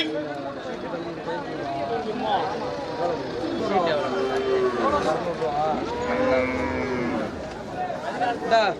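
Cattle low and moo repeatedly at the busy Melur cattle market in Tamil Nadu, the calls close and loud, mixed with a steady babble of people talking around the livestock.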